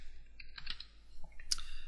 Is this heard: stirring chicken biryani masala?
no